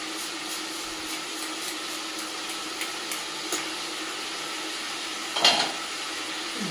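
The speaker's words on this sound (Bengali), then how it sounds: "কিনোয়াটা একটু ভাজতে দিয়েছি" Quinoa fries in a pan for a Bengali-style quinoa pulao, giving a steady soft sizzling hiss, with a brief clatter of a utensil against the pan near the end.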